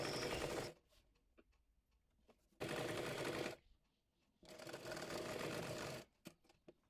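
A sewing machine stitches the hem of a kameez in three separate bursts of rapid, fairly close clatter, with quiet gaps and faint handling clicks between them.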